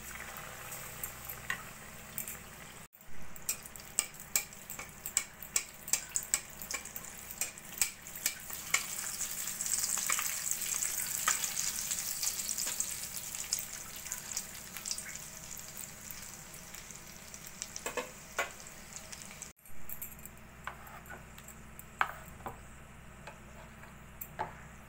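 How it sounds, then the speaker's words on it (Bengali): Battered potato chops for aloo chop sizzle steadily in hot oil, a dense crackling fry with scattered sharp pops that swells in the middle before settling, with no voices. "ব্যাটারে চুবিয়ে এবার তেলে দিয়ে দেব।"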